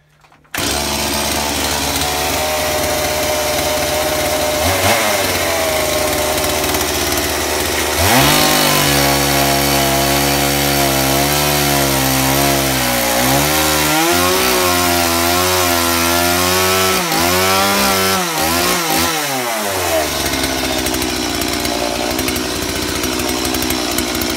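Sharpened chainsaw fired up for a test run in a workshop, a loud steady two-stroke engine drone throughout with several revving rises and falls, close and continuous, no talking.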